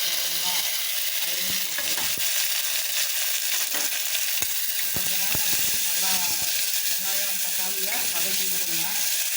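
Onion and tomato sauté in a hot pan for idli kurma, a continuous loud sizzle with repeated stirring scrapes and clinks of a spoon against the pan, no talk.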